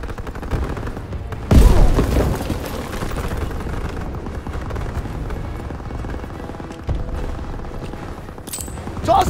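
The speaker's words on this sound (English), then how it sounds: "Lobbing a grenade!" Grenade blast and gunfire in Call of Duty WW2 during the Battle of Remagen, 1945: a sharp loud explosion early on, then continuous battlefield rumble with scattered shots and a later thud.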